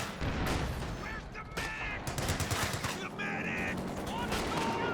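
Small arms gunfire in the Company of Heroes 2 strategy game: dense, loud bursts and rattling volleys of rifle and machine-gun fire throughout, with sharp reports and radio-style unit chatter mixed in.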